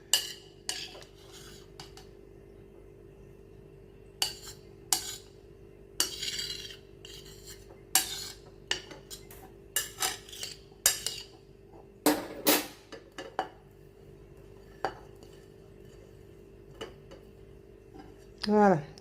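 Metal utensil clinking and scraping against a bowl while mixing vinaigrette dressing, irregular taps and rubbing strokes at close range, with a person talking in between.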